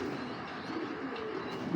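Giribaz pigeons coo in a loft, soft low throaty murmurs overlapping in a steady close chorus, with one louder coo near the end.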